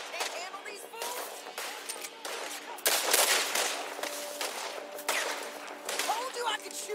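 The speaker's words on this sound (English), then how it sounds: "Told you I could shoot a gun, didn't I?" Gunshots in a Western shootout in Red Dead Redemption 2, sharp cracks and bursts of rapid fire over a rocky outdoor scene, fairly close and moderately loud, with a burst of heavy fire near the middle.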